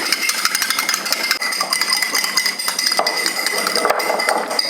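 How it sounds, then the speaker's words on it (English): Egg white and yolk are whisked together in a bowl for Korean japchae, with steady, busy clinking of utensil against bowl in quick repeated strokes, close and fairly loud with no talk. "So we're going to whip it together, almost like you're making a scrambled egg"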